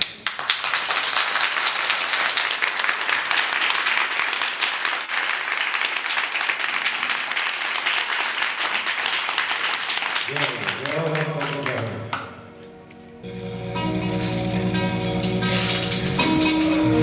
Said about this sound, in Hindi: देखिए तालियों में वो गूंज नहीं है